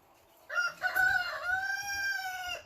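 A rooster lets out one long, loud crow, held and slowly fading, with soft clucking from chickens underneath.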